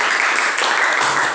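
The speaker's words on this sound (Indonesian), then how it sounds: "Tepuk tangannya yuk." Classroom applause after a student group presentation, a dense burst of many hands clapping close by, steady and loud through the short moment.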